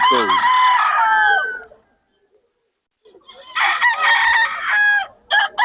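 A bull stag rooster at a market in Bocaue crows loudly nearby, one long crow followed by a pause and then a second choppy crow.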